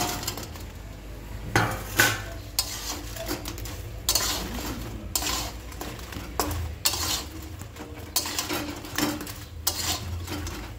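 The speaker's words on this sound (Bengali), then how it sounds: "সব পিঠের গায়ে গায়ে যাতে গুড় লাগে এরকম করে আমি একটু নেড়ে চেড়ে তারপর নামিয়ে নেব" Fried pithe being stirred in a pan of jaggery, giving repeated scraping clinks and knocks of a utensil against metal at an irregular rhythm, close and fairly clear, with no talk.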